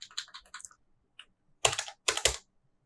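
Bursts of rapid keystrokes on a computer keyboard while writing code, a quick run of taps, a pause, then two louder clusters of clacking, close and clear with no talk.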